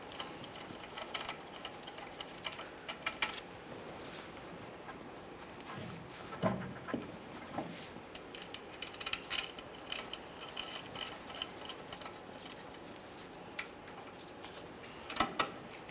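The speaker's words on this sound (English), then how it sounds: "Use our 11mm to snug each of these." A ratchet with an 11 mm socket snugs drive shaft mounting bolts on a 2007-2013 Chevrolet Silverado 1500 5.3L, making faint, scattered clicking and rattling with small metal knocks.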